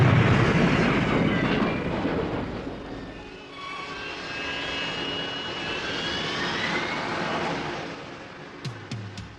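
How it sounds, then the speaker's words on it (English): Harrier jump jet engine roaring loud and close, a broad rushing jet roar that eases slightly midway and then swells again, with a few sharp clicks near the end and no talk. "The Harrier jump jet is one of the most unlikely war winners ever seen"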